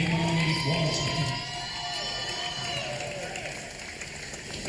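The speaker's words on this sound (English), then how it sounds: "Now a round of applause for women's basketball sophomore Imani Washington." Crowd cheering and applauding in a gym at a women's basketball game, a loud wash of claps and shouts that peaks early and then holds steady, with a few voices rising above it.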